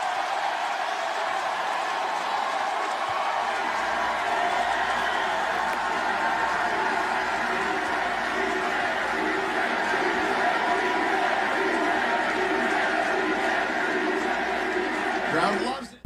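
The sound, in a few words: wrestling crowd cheering wildly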